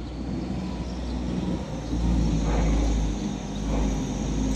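Delivery truck approaching along a street, a low engine rumble that swells and ebbs as it nears, with steady road noise and no talking.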